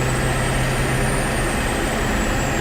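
A motorhome's engine hauls a truck behind it, producing a steady, loud, droning roar with a sustained low hum and a faint high whine running throughout, with no voices.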